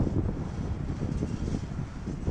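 Strong wind buffets the microphone beside Highway 120 East on a breezy day, a steady low rumble with gusty swells throughout and no voices.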